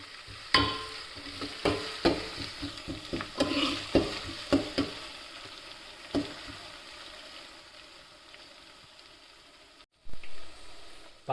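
Ginger garlic paste frying in a pan for country chicken curry, with a spoon scraping and stirring in sharp repeated clacks over a steady sizzle, then quieting to a low hiss before a brief louder clatter at the end.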